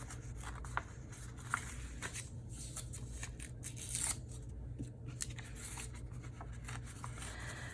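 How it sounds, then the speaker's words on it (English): Paper scraps torn by hand around collage pieces for a junk journal, a quiet, close series of soft ripping and rustling strokes with a few sharper tears, no voices. "then you simply tear around them. Just tear around them, leaving whatever you want to leave around the edges."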